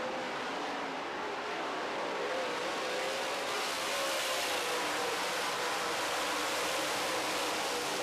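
Late model race cars race around a track, their engines producing a continuous, loud, broad roar as the field passes, with no clear gaps between cars.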